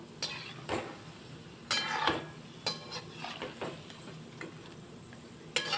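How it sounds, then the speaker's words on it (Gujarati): Vegetable Manchurian balls fry in a pan over medium gas, a steady sizzle broken by several louder clatters and scrapes of a utensil stirring and turning them. "મીડિયમ ગેસે મન્ચુરિયન્સ બોલને એક બાજુ ગોલ્ડન બ્રાઉન થવા દઈશું"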